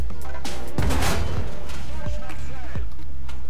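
A tank cannon fires in the video game War Thunder: one loud, deep boom lands close just under a second in, followed by a few softer thuds, over a steady game rumble.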